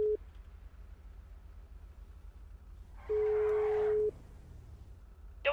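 A phone call signal in a GTA roleplay video game sounds as steady electronic tones: a short beep, then a longer one lasting about a second over a faint background hum, and a third starting at the end. No one speaks.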